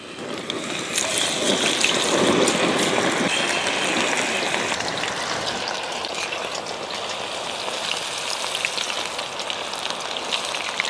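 Cauliflower pieces coated in masala deep-fry in hot oil for a restaurant-style Gobi Manchurian, giving a steady, dense crackling sizzle like heavy rain that stays loud and close throughout, with no talking.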